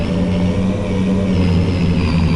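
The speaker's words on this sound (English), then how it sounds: "I couldn't hear you when the truck was running." A Kenworth truck engine drones loud and steady from inside the cab while working around a farm, a continuous low rumble with little change in pitch.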